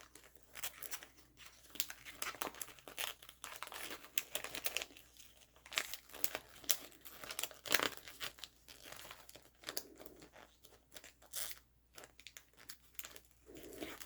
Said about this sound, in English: Just going to fold in one corner like that.